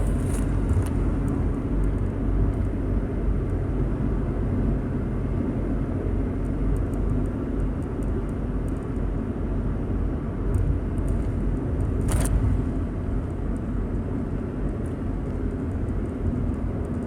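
A car cruises on a highway on a drive from Plattsburgh to New York City, giving a steady, loud interior rumble of engine and road noise that continues unbroken, with only faint ticks on top.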